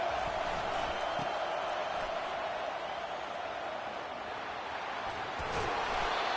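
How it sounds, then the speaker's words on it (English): A football stadium crowd roars in a steady, loud wash during a third-down defensive stand, the dense noise holding throughout and swelling slightly near the end. "Decibels rising as the crowd gets behind this defense on third down."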